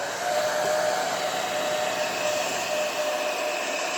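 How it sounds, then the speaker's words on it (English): A hair dryer set to low heat blows steadily across poured acrylic paint, giving an even, unbroken airy whoosh with a faint whine that holds throughout. "I'm going to go ahead and grab my hair dryer"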